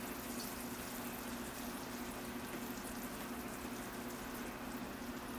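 Water drains steadily through the soil of a bonsai pot after watering, a faint, continuous trickling hiss with no pauses and no talking.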